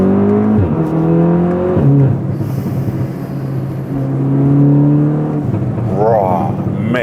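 An Audi S3 engine revs, its pitch climbing in repeated sweeps and held briefly between shifts, loud and close inside the car, with a voice talking over part of it.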